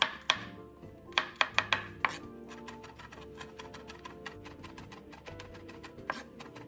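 Three garlic cloves, about 15 grams, are minced with a knife on a board: a burst of sharp, close chops gives way to a quicker, lighter run of steady taps.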